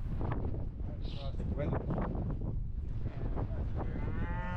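Cattle on a windy family ranch moo loudly and repeatedly at close range. Gusting wind buffets the microphone, and people talk faintly nearby.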